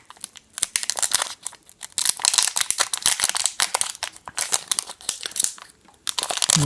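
Plastic foil wrappers on trading card booster packs crinkle and tear in dense bursts of sharp rustling, with brief pauses between packs, all close and loud with no talking.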